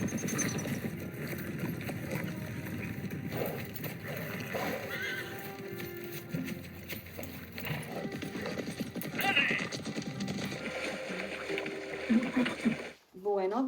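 Horse hooves clip-clopping at a steady rhythm during a ride in Córdoba during Semana Santa, with a neigh, background noise and people talking.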